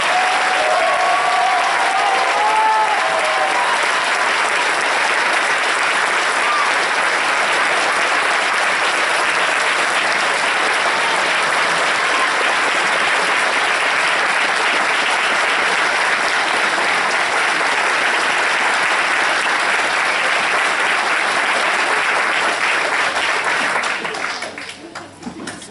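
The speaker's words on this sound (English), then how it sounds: "Can we give a huge round of applause to Class 170?" Sustained applause from a large crowd at a New Orleans police recruit class ceremony, loud and steady for about 24 seconds before fading out at the end.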